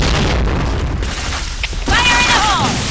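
A booming grenade blast from the Point Blank shooter game, during a bomb mission, hits hard and then rumbles off, followed by a rising synthetic whine from the game.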